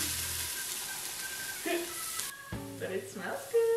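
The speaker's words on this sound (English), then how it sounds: "I'm gonna turn the saute down to low because that is like burning immediately" Food frying in a hot sauté pan while cooking Algerian doubara, a steady close sizzle that fades partway through, followed by quieter cooking noises and electronic beeps from the cooker as a voice speaks.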